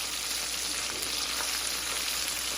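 Twice-fried chicken pieces sizzle and crackle in hot oil, a dense, even frying hiss that holds steady throughout without any talking.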